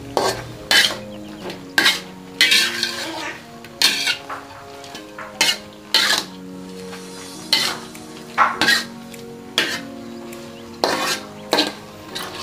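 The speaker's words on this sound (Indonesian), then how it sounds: "kita aduk-aduk dulu" Stirring a broccoli and egg stir-fry in a pan, with repeated sharp clanks of a utensil against the pan in an irregular rhythm over a soft background sizzle.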